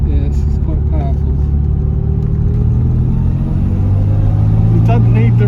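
1970 Jaguar E-type Mark II with a 4.2 engine pulls under power, a loud, close, steady low engine drone filling the cabin while people talk over it.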